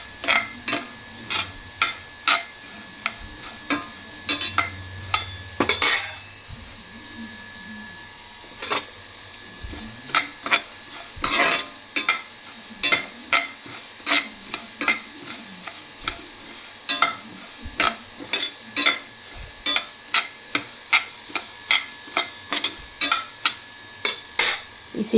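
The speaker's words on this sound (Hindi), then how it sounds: "हमने इसको भूनना सूखा, बिना तेल के इसको भून लेंगे" Whole spices and dried chillies being dry-roasted without oil in a pan for homemade sambar powder, a spoon scraping and stirring in repeated sharp metallic strokes that run steadily throughout, close and fairly loud with no talk.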